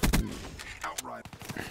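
Pistol gunshots in a search and destroy video game, a few sharp shots fired close together at the start and then more scattered, with someone speaking over the game sounds.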